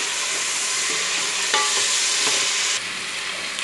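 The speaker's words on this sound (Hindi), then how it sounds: "अब इस चिकन को भी पहले भून लेते हैं" About 250 grams of chicken sautéed with ginger and garlic in a pan, a steady broadband sizzle with a few brief scraping stirs, loud and close, no voices.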